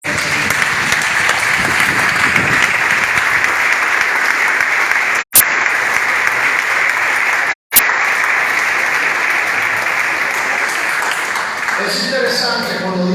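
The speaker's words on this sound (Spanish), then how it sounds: "Un aplauso fuerte." A church congregation gives strong, sustained applause, loud and dense throughout, with two brief cuts in the middle before it thins out near the end.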